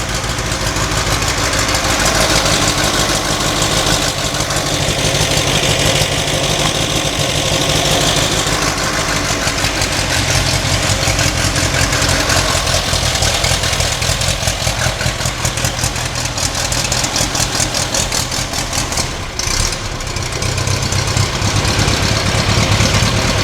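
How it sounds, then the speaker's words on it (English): An old ZAZ car engine idles just after starting, a steady rough mechanical chug with some knock and vibration, close and loud throughout with no talk. "Yeah, it's idling."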